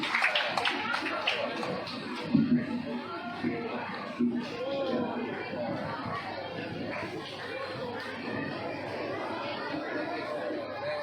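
A mosque audience in Medan claps at a Ramadan gathering. The dense, steady applause fills the hall for about eleven seconds, mixed with the murmur of crowd chatter and a few louder claps near the start.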